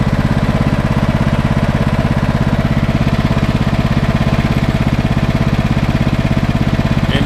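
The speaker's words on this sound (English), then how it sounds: "you need to keep the engine running on low RPMs until it cools down a little bit, and then you can turn it off" A 2018 Stiga Tornado 2098 H lawn mower with a 12 hp engine idles at low RPM, a steady close, loud rhythmic chugging throb that continues evenly throughout, with no talking.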